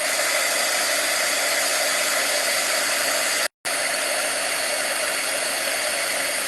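A craft heat tool blows hot air over stamped paper on a protected work table, a loud steady whooshing drone that cuts out for a split second midway, then resumes.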